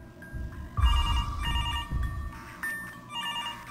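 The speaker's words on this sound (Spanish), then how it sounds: "Aquí suena el teléfono, quizá." A telephone rings inside the horror game Mr. Hopp's Playhouse, repeated electronic ringing bursts in a steady pattern over low rumbling game ambience, moderately loud with no speech.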